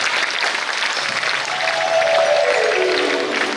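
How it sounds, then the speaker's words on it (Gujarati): An audience at a music programme applauds steadily and loudly throughout as a dense wash of many hands clapping, with a faint sustained tone rising through the middle. "સમગ્રને જોરદાર તાળીઓથી વધાવીએ."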